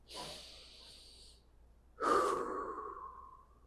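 Someone holding a yoga pose breathes audibly up close, with one breath, a pause, and then a longer, fuller exhale through the nose.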